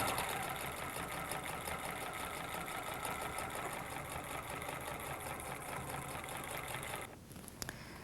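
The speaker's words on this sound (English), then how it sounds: "begin to sew these two pieces onto the shirt" A sewing machine runs steadily, stitching two placket pieces onto the bottom of a sweatshirt with a quarter-inch seam, a continuous mechanical whir that stops near the end with a few small clicks.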